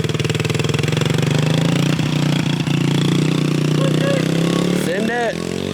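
A pit bike engine idles unevenly with a choppy, loping rhythm, close and steady, as people talk over it.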